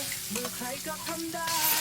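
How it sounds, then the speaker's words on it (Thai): Loud, steady sizzling of pounded chili and garlic frying in hot oil in a pan, with stirring and scraping throughout. "เริ่มตั้งกระทะใส่น้ำมันเล็กน้อย แล้วก็พริกกระเทียมโขกนะครับลงไปผัดให้เหลืองหอม"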